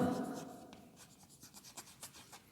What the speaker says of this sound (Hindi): यहाँ लिख देता हूँ मैं सेल डिसरप्शन